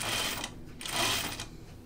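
A sewing machine runs in two short bursts with a pause between, stitching the seam allowance of a French seam at a shirt sleeve on a Grainline Archer button-up, a close, steady mechanical whir.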